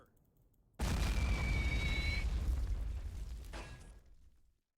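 WW1 artillery guns fire in a real-time strategy game set in Belleau Wood trench warfare, with a sudden loud boom after a quiet start, then a long rumbling, crackling tail and a second burst before the sound dies away.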